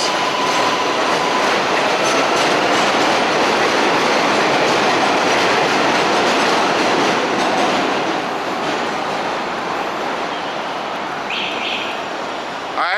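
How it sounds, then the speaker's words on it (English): An elevated subway train passes overhead in Jackson Heights, Queens, a loud, steady roar of wheels and clattering cars that fills the whole stretch and eases slightly toward the end, with a faint squeal late on. "I actually didn't stop there because of the train overhead."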